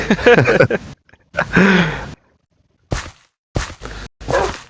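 Dogs, including a Siberian Husky, bark in several sharp bursts separated by brief silences, loud and close, with a few yips among them.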